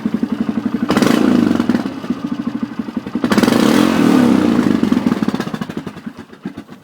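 Honda 400ex ATV single-cylinder engine running rich with the choke on after a rebuild, a loud, steady close-up putter with two swells of harder revving before easing back toward a low, uneven idle.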